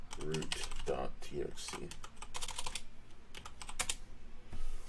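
Fast bursts of typing on a computer keyboard while entering commands in a hacking exercise, close and fairly quiet, with clustered keystrokes separated by short pauses and a voice speaking over part of it.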